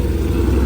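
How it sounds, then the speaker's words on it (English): Hot rod engines rumble at a car meet, a steady low idle drone that holds at the same loud level throughout, with no voices over it. "Now the hot rods are starting up to get ready to leave as well."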